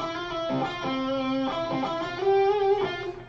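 Electric guitar plays an intro solo phrase, a short run of clean sustained notes with slides, heard close and alone.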